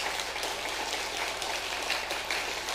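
Sustained applause from a church congregation during a Sunday worship service, steady dense clapping throughout with no talk over it.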